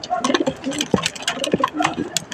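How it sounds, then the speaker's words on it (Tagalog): A young pigeon, a day-three squab in a loft, gives soft, brief coos and chirps close by. Someone talks over them now and then. "Ayan po yung young bird."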